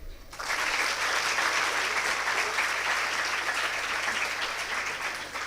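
A big audience of graduates claps together at a Mangalore graduation and awards day, a thick, even wash of applause rising quickly and continuing loud and unbroken to the end.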